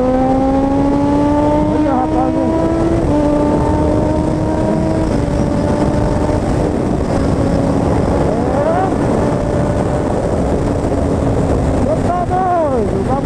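Honda CB 1000R motorcycle fitted with a K&N air filter and GRS titanium exhaust, engine revving and shifting up through gears under hard acceleration, with loud wind rush and a rider talking over it.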